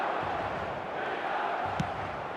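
Stadium crowd noise from the eFootball video game, a steady broad roar of massed fans with a faint murmur of chanting, holding at an even level throughout with one brief sharp knock near the end.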